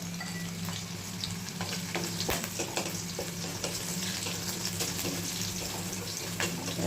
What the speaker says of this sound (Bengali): একটু ভাজা ভাজা করব নারকেল কোড়াটা